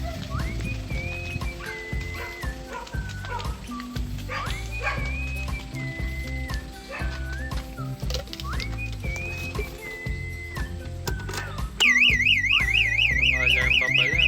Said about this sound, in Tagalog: Alarm pa pala.